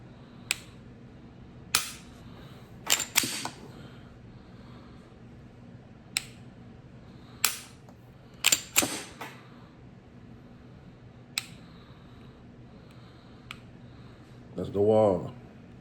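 Quiet, sharp mechanical clicks from the trigger reset of a Glock .40 S&W pistol come one at a time or in quick pairs at irregular intervals, with a brief voice sounding near the end.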